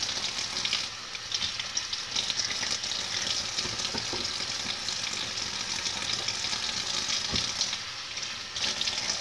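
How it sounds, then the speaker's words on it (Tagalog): Something being washed thoroughly under running water: a continuous, close hiss and splash of flowing water lasting the whole stretch, with small clinks and shifts as the item is handled. No talking. "Kaya hinuhugasan ko maigi."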